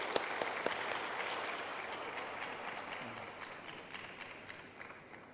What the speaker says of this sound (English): Give you a big applause.